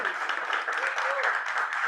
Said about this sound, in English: So I'd just like to have a round of applause for Alex.